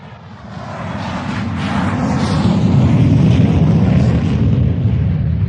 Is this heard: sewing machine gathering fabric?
no